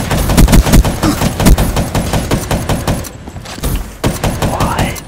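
Rapid automatic gunfire from a weapon in a Black Ops 3 one-on-one match: close, loud bursts of rapid shots, with a short pause before the firing resumes.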